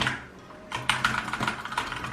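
Computer keyboard keys clatter during a Fortnite match: after a quiet start, a quick irregular run of close, sharp clicks and taps fills the rest of the moment.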